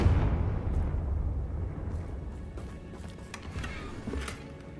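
Confringo explosion spell cast in Hogwarts Legacy: a loud fiery blast at the start that rumbles and fades into a low crackling tail with a few faint pops.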